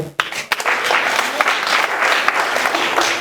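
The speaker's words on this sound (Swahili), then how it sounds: "Ongeza makofi kwa Yesu" A church congregation claps and applauds during a Swahili-language healing service, with a sharp opening clap followed by sustained, loud, close applause filling the whole stretch.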